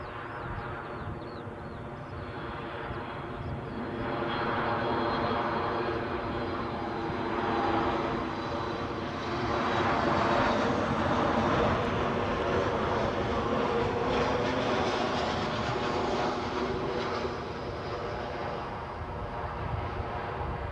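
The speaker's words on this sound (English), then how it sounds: "Looks like we've got an inbound Ryanair." An inbound Ryanair airliner approaching Edinburgh airport, a broad jet engine rumble that swells and eases over the span, with layered tonal hums, moderately loud and free of voices.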